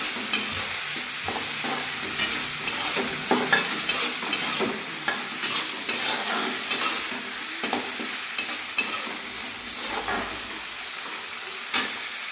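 Traditional horse gram curry sizzles in a frying pan while a spoon stirs it, with a steady hiss broken by scattered scraping clicks at close range.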